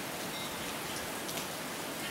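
Steady rain falling during Tropical Storm Alberto on Galveston Island, Texas, a dense, even hiss of drops hitting surfaces that holds constant throughout, with no voices.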